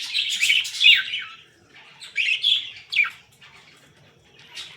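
Budgies, including albino and lutino birds, chirping in a cage, with bright, fairly close bursts of tweeting calls in several phrases separated by short pauses, and no talking.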